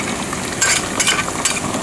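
Tomato puree sizzling with browned onion in a pot while being stirred, a close steady hiss of frying broken by short scraping bursts of the spoon.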